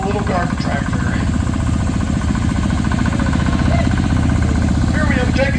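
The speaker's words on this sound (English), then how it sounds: "So this thing's a very, very powerful little garden tractor." A 1964 Jacobsen four-wheel-drive garden tractor with wheel weights runs at a steady, loud throb at an Illinois steam power show, with someone talking over it throughout.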